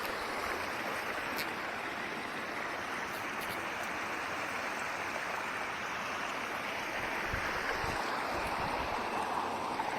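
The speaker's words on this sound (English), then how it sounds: "That water's moving fast." Fast-moving stream water rushes steadily on a nature hike, a dense, even roar that holds without pause from start to finish, fairly close and free of speech.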